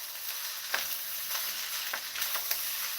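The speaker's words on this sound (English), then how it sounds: "So let's stir this up." Thanksgiving leftovers being stirred in a hot pan, a steady close sizzle with a few soft scraping strokes of the spoon, no voices over it.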